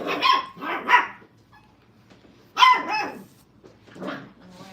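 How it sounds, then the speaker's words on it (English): A dog at a puppy training kennel barks in short bursts, two quick barks, a pause, then two more, close and clear with no talk. "He's always barking at somebody."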